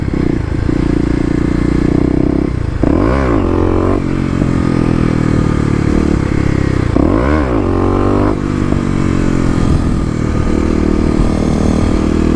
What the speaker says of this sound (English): Second gear, you really need to rev it out